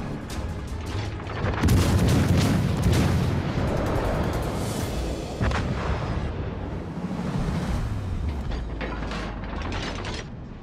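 Naval artillery in World of Warships: Legends, with heavy booming salvos and rumbling impacts layered over mechanical clanking and a constant battle din, loud and continuous.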